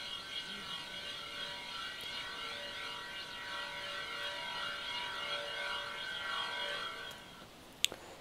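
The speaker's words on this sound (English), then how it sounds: "Now that was a fan of some sort" A fan sample treated with reverb and a flanger, giving a steady whirring drone with sweeping, comb-like tones that hold for about seven seconds, then a sharp click near the end.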